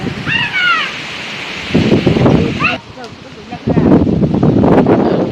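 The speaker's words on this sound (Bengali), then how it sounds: "অনেক বাতাস, তুফান আসতেছে" Gusty wind ahead of a storm sweeps past in loud, rustling surges that dip briefly before blowing hard again, with a few bird chirps heard near the start.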